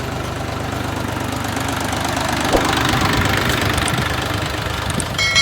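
A modified Scout XT-244 small tractor engine, still being run in, runs steadily with a rough, knocking idle throughout, close by, with a faint clatter near the end.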